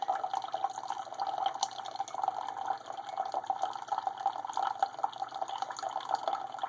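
A Keurig B70 brewing apple cider from a K-cup into a mug, a thin steady stream of liquid trickling and splashing continuously at low level, with no talking.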